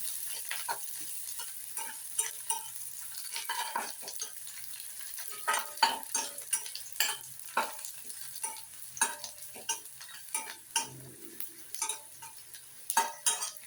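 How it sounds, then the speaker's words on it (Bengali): Chopped onions frying in a pan for rohu fish dopiaza: a soft, steady sizzle beneath frequent sharp scrapes and taps of a spatula stirring against the pan, close and moderately quiet. "পেঁয়াজ কুচিগুলো ওর মধ্যে দিয়ে আমি একটু সময় ধরে"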